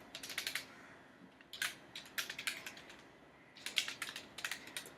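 A computer keyboard in Photoshop as Alt and Backspace are pressed to fill a selection, heard as quick clusters of crisp key clicks in three separate bursts with short quiet gaps.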